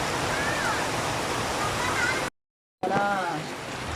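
Heavy rain roars as a dense, continuous wash in Kawayanan amid flooding, cut briefly by a moment of silence before resuming just as strong.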